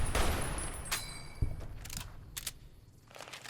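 Gunfire in Fallout New Vegas: a few scattered, fairly faint shots and a muffled thump, spaced out over a few seconds against a low background.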